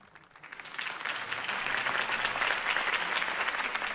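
Applause swells from a smattering of claps into sustained, dense clapping from a sizable crowd at a political campaign speech in the video game Batman: The Telltale Series.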